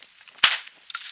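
A single sharp shotgun blast during a South Texas dove hunt, loud and close, with a short outdoor echo trailing off. Faint rustling comes before it and a few small knocks follow.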